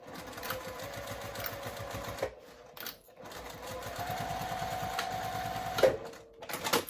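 Close sewing machine stitching a back stitch seam with a 3/8 inch seam allowance: bursts of rapid mechanical chatter broken by short pauses where the machine stops and restarts, ending in a few quick clicks.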